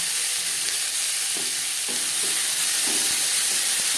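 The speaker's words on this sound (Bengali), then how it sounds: "মাছ ভেজে নেওয়া তেলে দিয়ে দেবো পেঁয়াজ কুচি" Salted chopped onions fry in oil left over from frying rohu fish, giving a constant dense sizzle with soft intermittent scrapes and taps of stirring close by.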